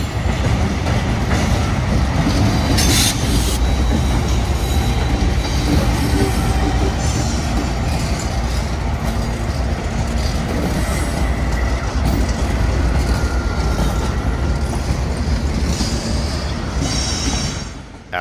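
A freight train rumbles steadily nearby as it pulls into a siding in Gardner, Massachusetts, with occasional faint wheel squeals and clanks over a continuous low roar.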